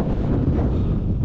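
Strong wind buffets the microphone in a constant low roar, rumbling and gusting close up without a pause.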